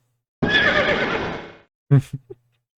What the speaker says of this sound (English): The only horse, Rapidash.